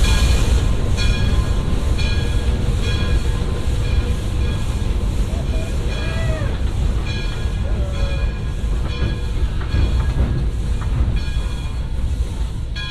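A steam locomotive train at Roaring Camp in Felton, California rumbles along steadily with rhythmic clatter and squealing wheels, loud and close throughout, with faint voices underneath.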